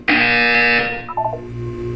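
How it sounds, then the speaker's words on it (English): Single loud electronic buzzer from the video game Portal 2, a harsh sustained tone lasting under a second, then decaying into a softer electronic tail with a few brief blips. "You will hear a buzzer."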